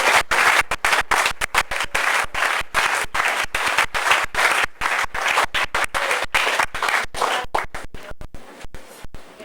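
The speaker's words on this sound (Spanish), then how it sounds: "Den un aplauso a Cristo." A church congregation claps during a sermon, a long run of loud, sharp, fairly regular rhythmic claps in unison that repeat steadily and taper off toward the end.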